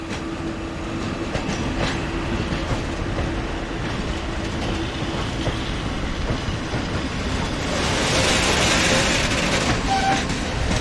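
A train passes through Katowice station with a steady rumble and rhythmic wheel clatter, growing louder and brighter toward the end as the cars roll close by.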